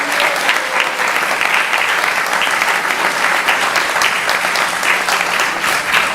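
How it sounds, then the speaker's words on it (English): A congregation at a Sunday feast gathering applauds for the head cook's birthday, with sustained, loud, even clapping from many hands throughout, no voices over it. "So please give him a round of applause."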